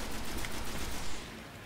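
Rapid machine gun fire in Destiny, a dense burst of overlapping shots at close range that runs for about a second before tapering off.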